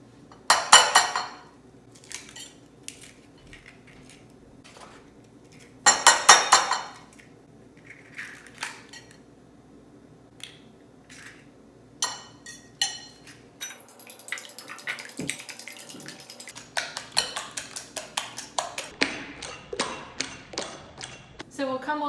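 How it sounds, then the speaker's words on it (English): Eggs are cracked against a bowl and then whisked in a kitchen, starting with sharp knocks and clinks, followed by a rapid clattering whisk against the bowl, close and fairly loud. "crack the eggs and whisk the eggs"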